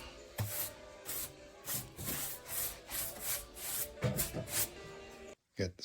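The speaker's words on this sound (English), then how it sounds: "More sanding, make sure the glue bonds to the other pieces." Repeated strokes of sanding on a wooden headboard piece, a rough rasping rub in uneven bursts, close by, with a brief silence near the end.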